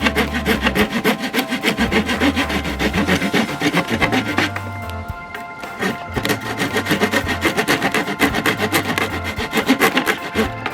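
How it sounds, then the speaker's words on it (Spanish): A wooden slat for a homemade window screen is hand-sawn in steady back-and-forth strokes, loud and close throughout, with a short pause near the middle before the rasping resumes. "Ya tenemos cortados los 2 listones"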